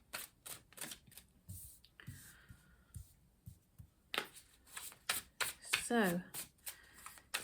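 A slippery tarot deck being shuffled up close in rapid riffling bursts and taps, with someone talking over it.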